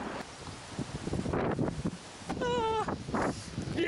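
Gusty outdoor wind rushes and buffets the microphone in a town street, rising and falling over a few seconds, with a brief vocal exclamation and another faint squeal-like call.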